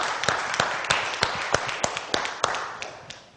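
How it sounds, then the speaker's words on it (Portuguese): Scattered applause from a church congregation at an Independent Baptist church greets a speaker, a room-filling wash of claps with sharper individual claps standing out, steady and moderately loud. "Recebendo os aplausos!"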